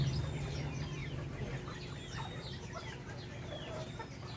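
Chickens clucking in a farmyard with a large rooster among them, soft overlapping clucks and chirps, fairly faint and continuous, with a low murmur underneath.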